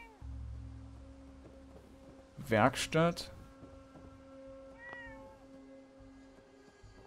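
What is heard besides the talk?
cat meowing in video game Fallout 4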